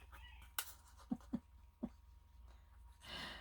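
Roosters and chickens vocalizing nearby, a few short clucks and squawks spaced irregularly over faint background noise.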